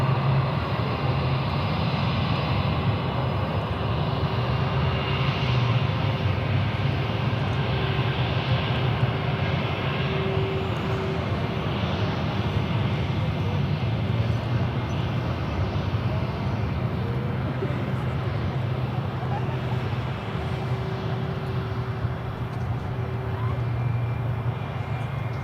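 An airliner on approach to land at Charlotte airport, a steady, loud jet engine roar that holds constant throughout with no breaks or voices.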